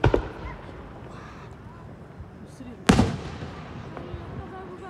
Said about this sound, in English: The fireworks are almost done.